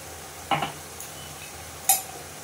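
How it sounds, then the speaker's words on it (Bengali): Spinach kofta masala is stir-fried in a pan, giving two distinct scraping clinks of a spatula against the pan over a faint, low sizzle. "এবার এটা কষে নেবো ভালো করে"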